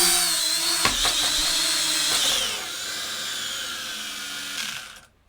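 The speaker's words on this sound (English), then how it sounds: "I get the propeller spinning by moving my sticks to the inside corners, down and in." Propellers of a small MJX V1 toy drone whir indoors with a high, buzzing whine that holds steady, shifts pitch, then drops off and cuts out at the end.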